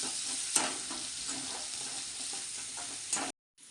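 Onions frying in oil until golden for a paneer masala, a steady broadband sizzle with occasional spoon scrapes, close and even throughout before cutting out near the end.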